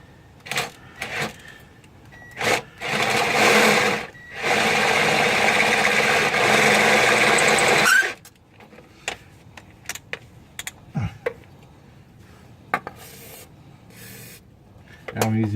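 A drill bores through a car exhaust flange in two sustained, grinding bursts of a few seconds each, heard up close, followed by scattered clicks and metallic handling noises from a repair on a 300ZX with broken exhaust studs.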